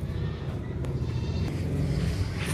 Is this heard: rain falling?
no